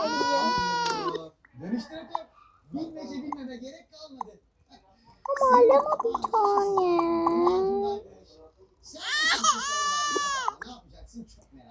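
A young girl cries and sobs in loud wailing bursts at home, with an adult speaking between and over the cries.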